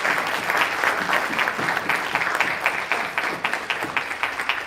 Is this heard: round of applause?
yes